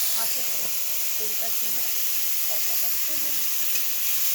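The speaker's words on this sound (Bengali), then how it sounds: "সেই তেলে তরকাটা তুলে দিচ্ছি" Curry tipped into hot oil raises a loud, steady sizzling hiss that fills the whole stretch, with a voice talking faintly underneath.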